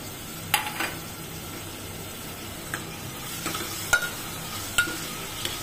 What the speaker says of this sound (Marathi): यामध्ये जाईल आता 2 हिरव्या मिरच्या ज्या आपण मधून चिरा देऊन घेतलेल्या आहे, कांदा, 1 टोमॅटो बारीक चिरलेला टोमॅटो